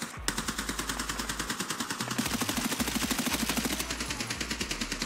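Gunfire in the video game Escape from Tarkov, a fast, steady stream of automatic shots lasting several seconds, loud and close, with a low pulsing rumble underneath.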